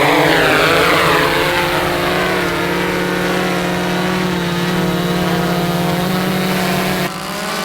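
Drone with spinning propellers carrying fishing line out over Florida water while hunting sharks, a loud, steady buzzing whine that holds constant and close, then drops slightly in level near the end.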